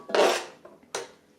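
Two potatoes drop into a kitchen pan for leek and potato soup, giving one clattering, scraping thud followed by a second, shorter knock about a second later, close and clear with no talk.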